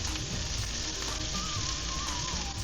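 Curry leaves hit hot oil with onion, garlic and ginger for a spiced ketchup, giving a dense, loud, continuous sizzle that stays steady throughout at close range, with no voices.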